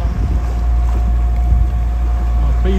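A sailboat motoring off the Turkish coast near Marmaris in a light, rising breeze gives a constant low engine drone mixed with wind buffeting the microphone and a faint steady hum.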